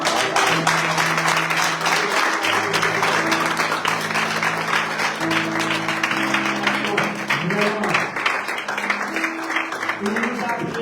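A church congregation at a worship service applauding and acclaiming the Lord, sustained crowd clapping mixed with voices and tonal sounds like singing or music, loud and continuous throughout.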